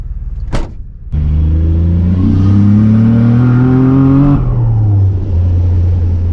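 Nissan Navara with a turbocharged VG30 engine revving hard under boost, a loud sustained rising engine note held for about three seconds after a brief blip, then dropping back to idle.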